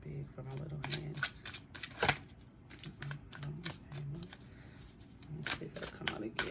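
Oversized tarot cards are shuffled by hand at close range. The riffles and slaps are quick and uneven, and one sharper slap stands out, all under a soft speaking voice.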